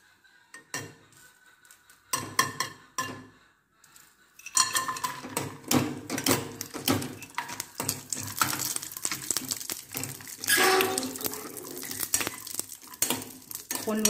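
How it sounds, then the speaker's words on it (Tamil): Cashews and raisins fry in ghee in a pan, with metal utensil clinks, stirring scrapes and a soft sizzle that builds after a quiet start and runs steadily to the end. "இப்போ கொஞ்சம் நெய் ஊற்றி இந்த முந்திரி திராட்சையெல்லாம் வறுத்து வச்சுக்குவோம்."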